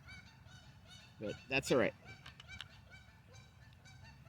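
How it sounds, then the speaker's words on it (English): Canada geese honk in a short burst as they fly past at a park, loud calls nearby fading to fainter honks, with someone talking quietly. "they're just Canadian geese flying on by"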